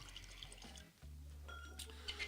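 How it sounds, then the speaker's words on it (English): Bourbon poured from a bottle during a blind tasting, with part of it running down the bottle's side: a faint liquid trickle over a low steady hum, with a brief break near the middle. "just poured half of it down the side of the bottle"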